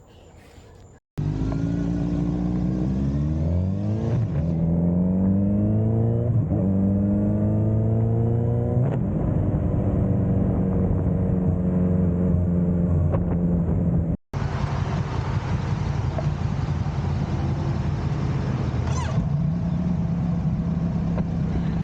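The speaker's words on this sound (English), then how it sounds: "picked up the bikes, Tiffany and me, and she's got the Suzuki SV650, and I've got the Z900 RS" Suzuki SV650 and Kawasaki Z900 RS motorcycle engines run close and loud for about twenty seconds, revving up in stepped surges and then holding a steady rumbling drone, with a brief cut partway through.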